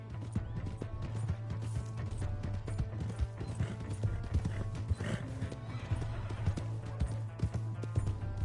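Hoofbeats of a horse galloping away in the Red Dead Redemption video game, a steady rapid clip-clop throughout with a whinny, close and loud over a low droning background.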